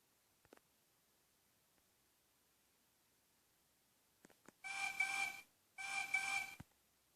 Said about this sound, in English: Then they heard a whistle